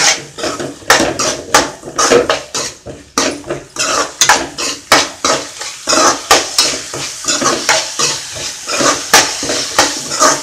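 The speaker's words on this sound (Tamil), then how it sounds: "இப்போ இதில் முருங்கைக்காய் போடுறேன்" Drumstick vegetable pieces going into a pot of mutton curry: a close, rhythmic series of clanks, thuds and scraping clatters against the metal pot, one after another, with no voices.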